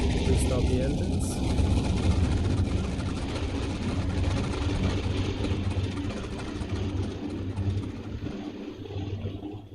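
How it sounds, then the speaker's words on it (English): Douglas DC-3 piston engines run steadily in the FlightGear flight simulator, a dense low drone with a mid-range hum that holds loud throughout, with a voice talking over it. "Restart the engines."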